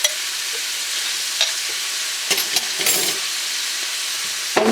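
Jarred garlic sizzles steadily in a hot pan as a utensil stirs it, with scattered scrapes and taps against the pan over the continuous frying hiss, and no talking.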